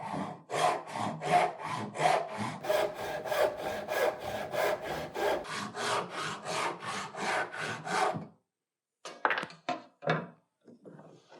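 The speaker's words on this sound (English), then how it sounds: "then I can saw down and finish the cut." Steady back-and-forth strokes of a hand saw rasping through wood, a brisk even rhythm for several seconds, then a pause and a few final strokes.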